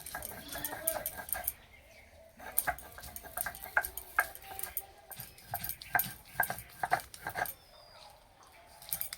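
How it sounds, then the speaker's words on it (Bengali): Soaked rice is ground on a shil stone in a village kitchen, with repeated scraping, knocking strokes in an uneven rhythm, close and fairly loud. Birds cluck faintly in the background. "এবার শিলে বেটে নেব। আর এইভাবে একটু বেটে নিলে না পিঠেগুলো খুব সুন্দর তৈরি হয়।"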